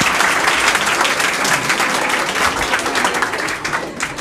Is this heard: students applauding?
yes